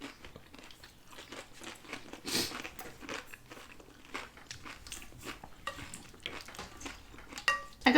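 Someone eats aguachiles, shrimp in a lime and chili marinade, at close range, with soft bites, chewing and crunches, plus light clinks of cutlery against a dish, all fairly quiet and irregular.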